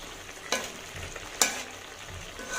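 Rice and eggs sautéing with spices in a pan, a soft steady sizzle broken by two sharp scraping stirs, close and moderately quiet with no voices.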